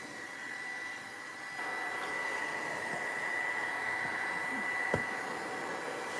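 A hair dryer blows steadily on mixed-media artwork with a brush nearby, producing a continuous even whoosh with a faint whine that holds for the whole stretch, with one small knock near the end.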